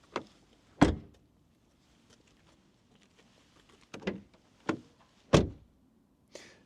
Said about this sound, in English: And then as for the door closing sounds